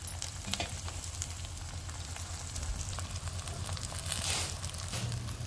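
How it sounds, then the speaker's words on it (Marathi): Chopped coriander leaves being stirred and fried in oil, a continuous crackling sizzle with scattered pops and occasional scraping of the pan, fairly quiet and steady, with no voices. "आता कोथिंबीर मऊ पडेपर्यंत तेलात चांगली हलवून घ्यायची."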